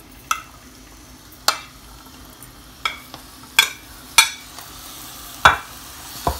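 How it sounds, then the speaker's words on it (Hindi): Chicken pieces frying in hot oil in a pan for a shawarma sandwich, heard as a low steady sizzle broken by several sharp clatters of stirring, with no talking. "अभी चिकन को फ्राई करेंगे 12 से 13 मिनट के लिए।"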